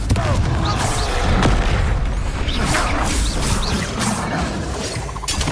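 Confringo blasting spell in Hogwarts Legacy, loud booming explosions and crackling shatter bursts over dense game combat noise, with repeated impacts and whooshes and a voice casting spells.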